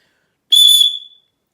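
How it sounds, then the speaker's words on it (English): A survival-kit whistle blown once, a loud, shrill, close blast lasting about half a second before tailing off into silence. "So why don't we take this thing out and we'll give it a blow."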